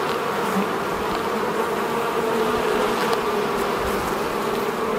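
Honey bees swarm thickly around an open hive, a dense, steady buzzing hum that fills the air close by with no talk over it.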